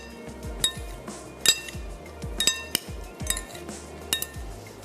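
Chana aloo chaat mixed in a bowl: a spoon clinks against the dish again and again in uneven strikes, close and crisp, with soft scraping between the hits and no talking.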